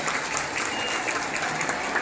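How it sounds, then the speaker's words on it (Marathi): Loud, dense applause from a crowd of women at a village gram panchayat haldi kumkum gathering, a continuous close clatter of many hands filling the whole moment. "सगळ्यांनी ह्या ग्रामपंचायतीसाठी जोरदार टाळ्या वाजवायच्या"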